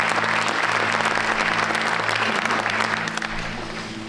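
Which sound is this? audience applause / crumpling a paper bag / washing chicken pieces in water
audience applause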